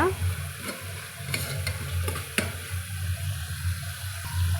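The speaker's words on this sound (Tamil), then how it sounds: "ஒரு தக்காளி மட்டுமே நம்மளுக்கு போதுமானதுங்க இதுவுமே நம்மளுக்கு நல்லா வதங்கி வரட்டுங்க" Tomato frying in oil in a pan while stirred, with a steady soft sizzle, a few close utensil scrapes and clinks, and occasional watery bubbling, no talking.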